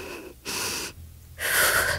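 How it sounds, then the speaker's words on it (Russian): A character in The Walking Dead: The Final Season breathes in ragged, wheezing gasps, two long rasping breaths separated by a pause, loud and close. "Это она так дышит?"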